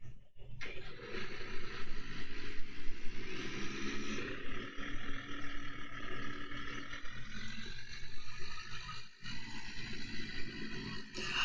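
A tractor in the farming game Dinkum drones steadily along for several seconds, its engine hum holding a constant moderate level with slight shifts in pitch and no speech.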